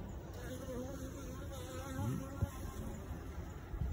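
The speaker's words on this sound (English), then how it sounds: "That's a drone taking off if you can hear it." Low honeybee buzzing at a beehive hums steadily, rising briefly in loudness midway as a male drone bee takes off nearby, with a small click partway through.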